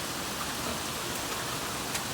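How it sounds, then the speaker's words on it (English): Steady rain falls on a pig farm at Rocky Knob during flooding, a dense, even hiss with faint scattered drops and no voices. "Getting a lot of rain here this morning at Rocky Knob."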